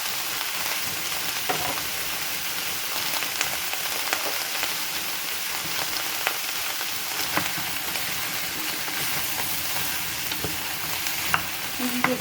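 Cut squash sizzling and frying in a pan while being stirred, a dense continuous crackle with occasional sharper scrapes and pops, close and steady throughout with no voices.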